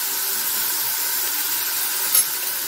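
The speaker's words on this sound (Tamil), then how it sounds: "இப்போ இஞ்சி பூண்டு பேஸ்ட் போட்டுக்குவோம்." Ginger garlic paste hits a hot pan in a home kitchen, giving a continuous bright hissing sizzle with a brief louder flare near the end.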